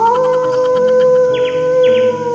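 A person mimics a wolf's howl in a long, tonal, wavering wail that slides in pitch and is loud and close.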